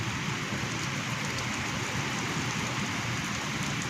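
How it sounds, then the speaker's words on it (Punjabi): Steady, even rainfall pattering on surfaces, a continuous wash of drops close by with no voices. "ਅੱਜ ਦੂਜਾ ਮੀਂਹ ਆ ਗਿਆ"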